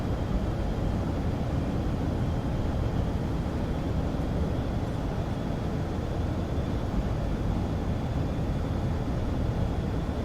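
Steady broadband engine drone of a light airplane in the X-Plane flight simulator, continuous and loud throughout with no pauses, heard alone on approach with full flaps and the throttle increased.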